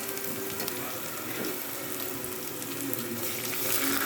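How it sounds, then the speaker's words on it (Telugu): Ginger garlic paste hits a hot pan and sizzles in a steady, bright hiss that fills the moment, close and fairly loud, with no talking over it. "అల్లం వెల్లుల్లి పేస్ట్ వేస్తున్నాను."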